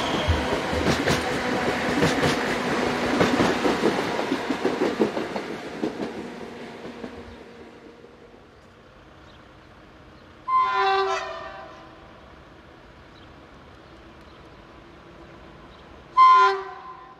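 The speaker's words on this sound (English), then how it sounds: "Class 312 number 107, a type based on the German class 642, heads a stopping service from Maribor to Zidani Most." A Class 312 electric multiple unit, based on the German class 642, runs a stopping service between Maribor and Zidani Most, rumbling past with clattering wheels that fade away, followed by two short distant horn blasts.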